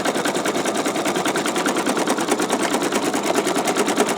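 An embroidery machine stitching a dragonfly design onto a T-shirt, a loud, rapid, even mechanical chatter that runs continuously without a break.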